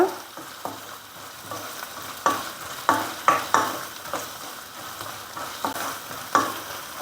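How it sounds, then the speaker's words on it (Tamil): Crushed ginger and garlic sauté in a pan, a continuous close sizzle punctuated by sharp, regular spatula scrapes and taps against the metal, with no voices. "இஞ்சி பூண்டு பச்சை வாசனை போகிற அளவுக்கு நல்லா வதக்கிக்கோங்க"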